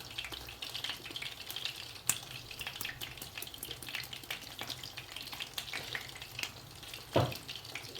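Fish deep-frying in hot oil gives a steady, close crackling sizzle with scattered pops throughout, plus a couple of sharper clinks or splashes near the start and end. No one speaks.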